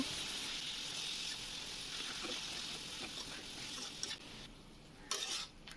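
Ginger garlic paste is stirred in a frying pan, a soft, fairly quiet continuous sizzle with intermittent scraping and a few utensil knocks near the end.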